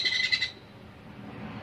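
Baby Australian parakeets give a short burst of shrill, rapid chirps, close and fairly loud, then fall quiet, leaving only faint room noise.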